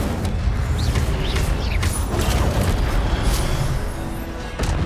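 Rumbling bursts and crackling whooshes of the Incendio fire spell being cast in Hogwarts Legacy, loud and dense throughout with several sharp flares and no speech over the effects.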